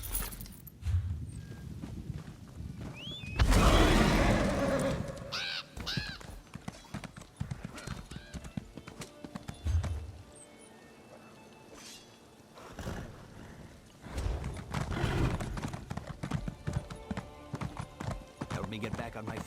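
In Elder Scrolls Online, a horse gives a loud whinny while hooves clip-clop in an uneven walking rhythm, under in-game voices speaking.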